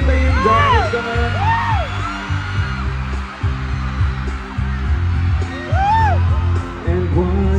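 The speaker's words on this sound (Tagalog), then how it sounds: "Kung sino may pinakamalakas na sigaw, sa kanya mapupunta yung jacket ka ngayon." A concert crowd shouts and whoops in a loudest-shout contest for a jacket, with loud overlapping yells rising over thumping live music.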